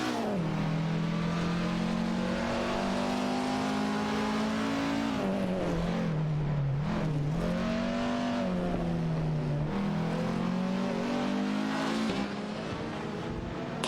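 Race cars in a racing video game, including a Puma GTB and a Skoda 130RS, with engines droning at steady high revs, pitch dipping and climbing through gear changes and corners, continuous and fairly close with no voices.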